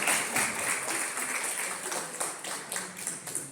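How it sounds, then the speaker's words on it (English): An audience at a civic association meet-the-candidates event in Astoria applauds. The clapping is moderately loud and sustained, a steady patter of many hands with some individual claps standing out, tapering slightly toward the end. "Okay, round of applause, Ms. Pizzangos"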